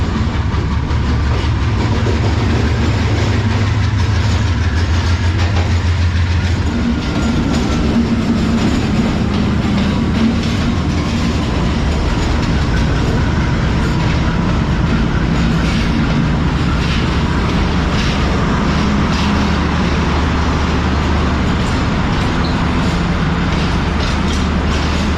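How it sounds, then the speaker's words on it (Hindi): Blue Tiger diesel locomotive hauling the Bahauddin Zakariya Express into Rohri Junction, Pakistan, with a deep steady rumble and engine drone, ongoing rail clatter and wheel noise, loud and close throughout with no voices. "ब्लू टाइगर अपनी गरजदार आवाज़ के साथ रोडी जंक्शन पर पहुंचते हुए"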